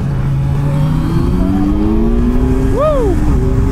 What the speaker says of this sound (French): Aujourd'hui on teste la Z900 Kawasaki, la nouvelle.